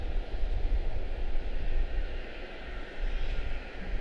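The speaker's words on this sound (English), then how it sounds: "A321 Neo to Vegas, American 2239" An American Airlines Airbus A321neo jet bound for Las Vegas roars at Charlotte-Douglas International Airport, a steady broadband engine rumble heard from a distance.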